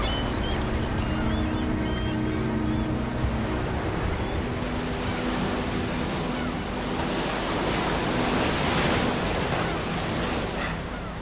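Sea waves wash continuously onto the shore, a loud, dense roar of surf with wind buffeting the microphone and no voices.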